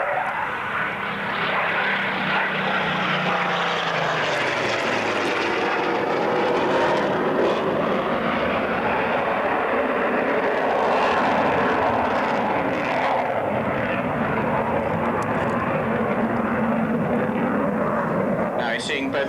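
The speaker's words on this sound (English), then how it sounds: "Now you're seeing both aircraft pulling up." A Spitfire and an F3 jet fly together at a 1992 military airshow, their engines roaring loudly and steadily overhead as they pull up, with a commentator's voice running over the noise.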